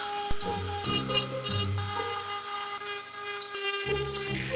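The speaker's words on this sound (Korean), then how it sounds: "핸드밀러로 디테일한 부분을 조각하는 중입니다" A handheld rotary tool carves fine detail into a wooden block, its steady high whine shifting pitch as the bit bites and eases, close and continuous throughout.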